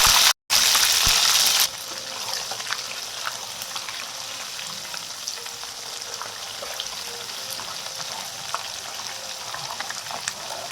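Ginger garlic paste for chicken pickle fries in very hot oil, opening with a loud burst of sputtering. It then settles into a steady crackling sizzle with scattered pops.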